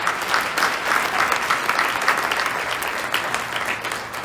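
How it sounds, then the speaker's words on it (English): An audience at a university alumni awards ceremony applauds a recipient, a dense, steady wash of clapping from a large crowd that carries on evenly throughout without words. "Just keep clapping for him."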